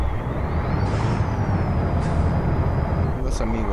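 Air brakes hiss in short bursts from a Freightliner Classic XL pulling double trailers on a Colombian highway as it slows, over a steady loud diesel engine and road rumble, with someone talking nearby.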